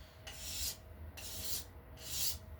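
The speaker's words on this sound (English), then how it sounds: "easing off on the pressure with that scraper" Hand scraper shaving the wooden limb of a laminate longbow, three slow, soft rasping strokes with quiet gaps between them, close up.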